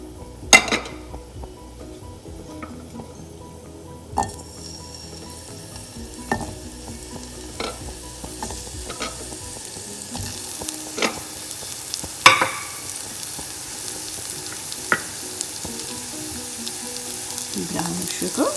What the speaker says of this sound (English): take a small saute pan, add olive oil, add our blanched vegetables, nutmeg and brown sugar to it